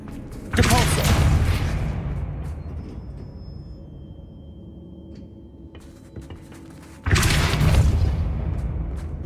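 A Depulso spell is cast in Hogwarts Legacy, giving two loud, sudden booming bursts, one at the start and one near the end, with quieter game ambience between them.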